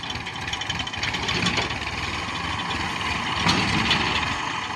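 A tractor engine runs loudly and steadily on a farm in Odisha, a dense low rumble with knocking texture that holds close throughout with no talk over it.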